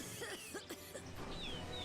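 A character in the video game Lightning Returns: Final Fantasy XIII coughs a few short rough times, fairly faint over a steady background hum.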